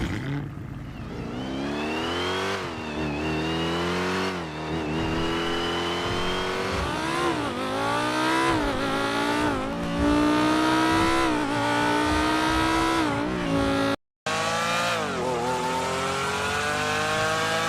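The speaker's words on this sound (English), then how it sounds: "He's made some of the best vehicle sound mods out there, and this is what they sound like." A car engine in a modded GTA V video game revs repeatedly, climbing in pitch and dropping back, loud and close, with a brief cut of silence near the end.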